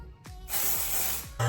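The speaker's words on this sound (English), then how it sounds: "I sprayed this side with dry shampoo" Dry shampoo sprayed from an aerosol can onto a synthetic wig, one steady hiss of about a second, close and fairly loud, with a faint click before it.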